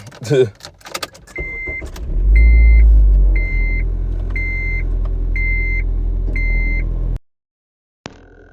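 A car engine starts with a loud rumble and keeps idling steadily while a repeated electronic chime beeps, then cuts out abruptly; a short voice opens the sound.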